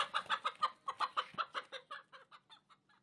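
A hen clucks in a quick, steady series of short clucks that gradually soften and fade toward the end, with no other sounds around them.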